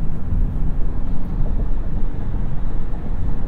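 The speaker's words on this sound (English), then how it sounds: "It sounds like our engine's running." Inside a 2023 Mitsubishi Outlander PHEV cruising on a highway, a steady low drone of gasoline engine and road noise, with rumbling wind, constant and fairly loud.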